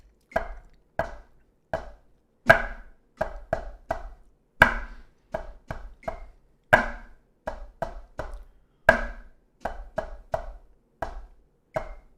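Drumsticks strike crisp, popping accents followed by quick double-stroke diddles, in a steady sequence of sharp, close hits with silence between the groups.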